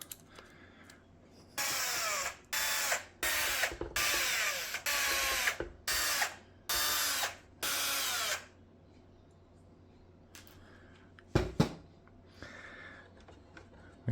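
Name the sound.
removing small Phillips screws from a robot vacuum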